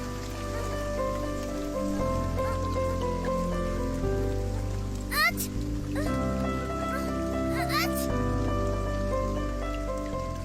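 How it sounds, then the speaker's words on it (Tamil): Heavy rain pours steadily in a cartoon scene, a continuous wash of broadband noise under a music score that runs throughout, with a couple of brief swooshing effects partway through. "மழை வேற அதிகமா பெய்யுதே"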